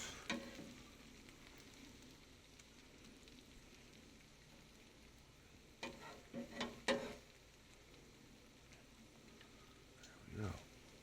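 Hash browns and bacon fry on a griddle with a low, steady sizzle, broken by a few scraping spatula clicks, and a voice speaks at times over it.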